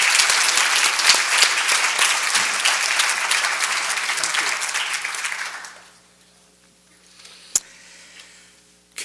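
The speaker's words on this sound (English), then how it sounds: "Another big round of applause." Audience applause at a newspaper-sponsored spelling bee, a steady dense clapping for about six seconds that fades out into a quiet room with a single sharp knock.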